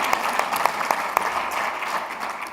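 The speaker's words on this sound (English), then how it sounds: "Definitely deserves a round of applause." Steady applause from an audience, a dense wash of clapping hands that holds evenly throughout without any talking.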